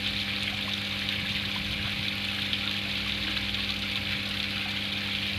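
Water pours from a pipe into a concrete fish pond, giving a steady, even rushing and trickling with a constant low hum beneath it.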